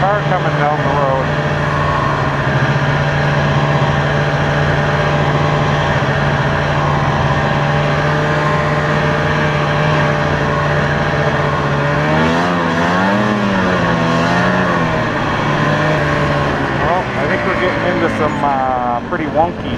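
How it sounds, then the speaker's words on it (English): At night on a dark road a car engine hums and rumbles steadily, its pitch wavering as it nears, with people talking over the sound throughout. "there's a car coming down the road"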